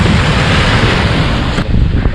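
Sea waves crash and wash over rounded pebbles at Kannamaly beach, a loud broad rushing roar with heavy wind buffeting the microphone, easing slightly near the end.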